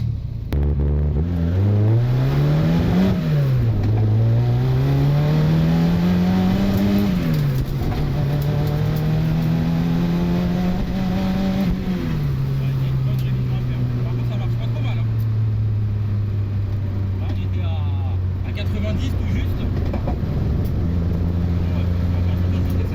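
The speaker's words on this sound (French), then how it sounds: "vous venez juste de voir un essai de la voiture et vous avez pu voir que la voiture ne tourne pas correctement" A Ford Sierra Cosworth engine runs on a test drive, running rough, its loud close drone climbing and dropping through repeated revs and gear changes before settling into a steady tone, with talk over it.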